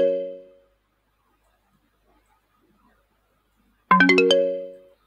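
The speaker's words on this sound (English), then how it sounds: "you can also select the notification sound here" Uploaded order notification tone in the wcOne ordering app, two short bright chime-like rings, one fading at the start and a louder one after a silent gap, each with stacked ringing tones.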